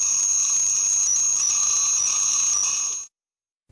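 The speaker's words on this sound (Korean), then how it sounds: "일본 방위성이 공개한 18초짜리 경보음이 거의 한 가지 소리만 깔끔하게 들리는 것에 대한 의문점도" Radar warning tone released by Japan's Defense Ministry: a steady, loud electronic alarm that holds one unbroken pitch with overtones for about three seconds, then cuts off abruptly into silence.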